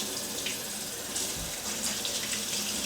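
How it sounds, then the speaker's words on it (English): Tap water runs steadily over homemade butter being rinsed until the water comes clear, a close, loud, continuous rushing splash alone with no voices. "You want to keep rinsing it through until your water is clear"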